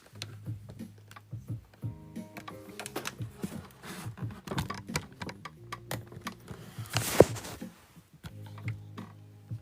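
Carriage of a flat bed knitting machine sliding back and forth while knitting a sweater, giving a busy run of close clicks, ticks and rattling mechanical clatter with one sharp louder clack near the end.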